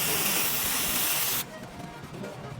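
Cleaning agent sprayed from an aerosol can onto a car's camshaft solenoid valve, a loud close hiss lasting about a second and a half before stopping abruptly.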